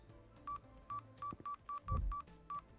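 Telephone keypad tones beep in the Escape Academy puzzle game, with about eight short, evenly pitched key presses in an uneven rhythm, clear and close against quiet game background.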